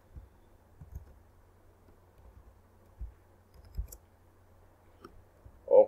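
Keys are tapped on a computer keyboard while code is typed, giving sparse, soft clicks at an uneven pace with quiet gaps between them and no talking.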